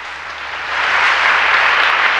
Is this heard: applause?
yes